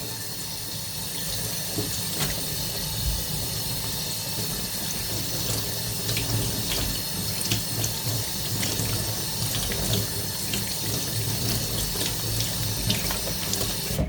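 Sardines washed under a running kitchen tap, a loud, continuous rush and splash of water into a sink, steady throughout and close by.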